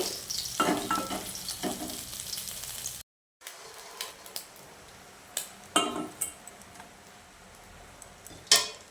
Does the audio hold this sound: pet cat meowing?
no